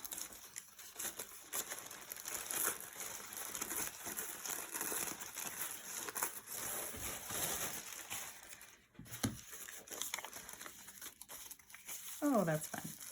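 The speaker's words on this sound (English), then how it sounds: "this is like wrapping tissue paper, not a napkin. So excuse the crinkle noises." Tissue paper being handled and wrapped, producing continuous soft crinkling and rustling throughout, fairly close, with a few sharper crumples near the end and no speech over it.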